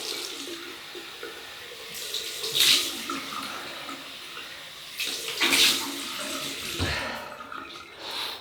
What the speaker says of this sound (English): So we'll have a cold water rinse.